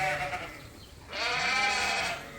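A sheep kept in a weather shelter on a small farm lets out two bleats, a thinner cry followed by a louder, longer quavering call, close to the microphone with little else around.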